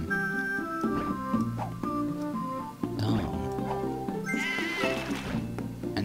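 Cartoonish sheep bleat repeatedly in the puzzle video game Divide By Sheep, short bright calls layered over the game's plucky music and splashy effects.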